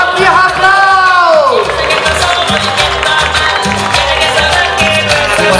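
A family stands and applauds at a canine carnival, with crowd clapping, cheering and whoops mixed under loud carnival music and a voice over the speakers.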